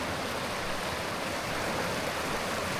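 A cold mountain stream flows steadily with a dense, even rush of water, close and constant throughout, with no voices.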